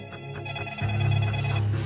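Telephone ringing in a police detective setting, a short electronic ringtone tone heard clearly for a couple of seconds over a low background hum.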